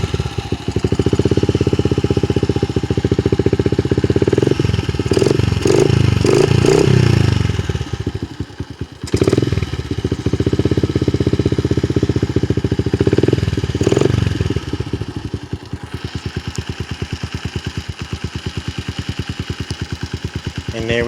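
A 2003 Honda XR70R dirt bike with a three-speed automatic runs close by with a steady engine drone, its pitch rising briefly in the middle before it settles back to a clattery idle.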